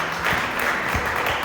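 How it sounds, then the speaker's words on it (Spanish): A church congregation applauding during worship, a short burst of brisk clapping that fills the room and holds steady for a moment, with no voices on top. "Vamos a darle un aplauso a Jesucristo."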